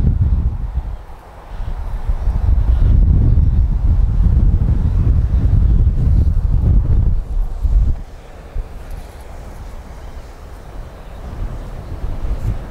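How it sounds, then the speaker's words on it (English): Strong wind on a golf course roars and buffets the microphone in heavy gusts, loudest in the middle, then easing to a steadier lower rush. "Oh, it's so windy."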